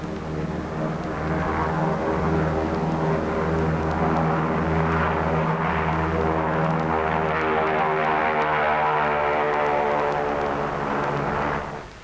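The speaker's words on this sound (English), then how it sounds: "Navy F-6F mother control planes are catapulted from the carrier's flight deck" A Navy F6F propeller plane flies by with a steady, droning engine hum that stays loud and even before fading at the end.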